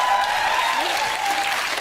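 Studio audience applause on a British talk show fills the room, a dense steady wash of clapping that holds at an even level from start to finish with no voices rising above it.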